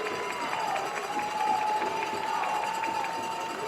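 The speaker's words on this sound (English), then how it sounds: "The Canyon crowd getting into it here right below us." Steady crowd noise from the stands at a high school football game at New Braunfels Canyon, a continuous roar and cheer around a fourth-down play that holds at an even level throughout.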